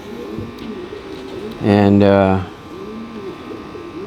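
A racing pigeon in a loft gives a loud, close rolling coo lasting under a second, set against the soft background murmur of other birds, with a voice briefly heard.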